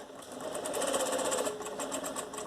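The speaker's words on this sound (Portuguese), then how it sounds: "eu vou até passar uma costura aqui de segurança" A sewing machine runs a safety seam along the edge of folded fabric, a close steady rapid whirring stitch with a brief surge in pace midway.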